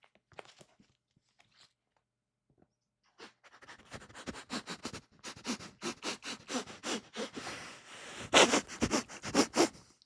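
Close, quick sniffs come in bursts, sparse and quiet at first, then denser and louder in a rapid, uneven rhythm. No one speaks.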